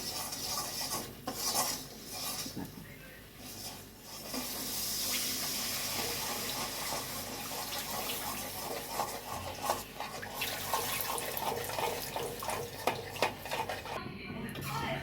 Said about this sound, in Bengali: দুধটা খুব সাবধানে দিতে হবে আর কন্টিনিউ নাড়তে হবে